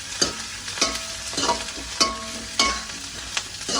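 Onions sizzle steadily in hot oil for tempering while a utensil scrapes and stirs the pan in regular strokes, close up.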